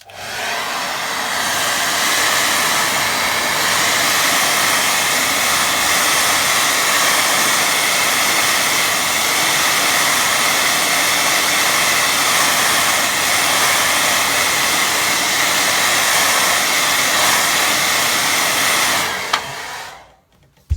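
A hair dryer blows on a watercolour beach painting, a loud, steady rushing whoosh held close for about nineteen seconds before it cuts off abruptly.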